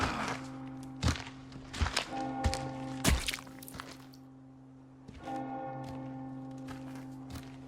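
Village church bell from Resident Evil 4 struck repeatedly, ringing tones layered with dull thuds and footstep-like knocks, fading mid-way before another loud peal rises.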